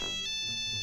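A brief electronic tone from a Nokia phone taped to a badminton racket sounds as a thin, steady ringtone, with sustained bright pitches that last the whole short moment.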